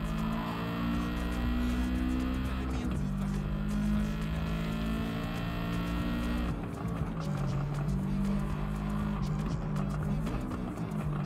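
Subaru boxer engine roaring loud and steady in the Gran Turismo 7 racing game, its rising and falling tone running the whole time with pitch shifts as the car accelerates and changes gear.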